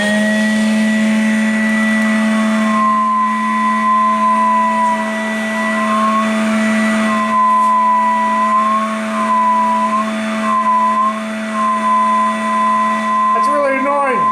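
A small Makita vacuum cleaner hums steadily and loudly throughout, with a high whine that wavers in pitch now and then.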